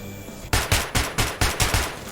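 Rapid gunfire from a weapon in the video game Metro 2033 Redux, seven loud, sharp shots in a quick regular burst after a brief quiet moment, with no talking.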